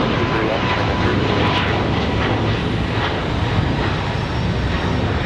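A Boeing 737 MAX rotating on takeoff at Raleigh-Durham on a windy day, its engines a loud, dense, continuous roar that holds steady throughout, close and unbroken.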